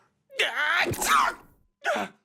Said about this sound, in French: Son éternuement.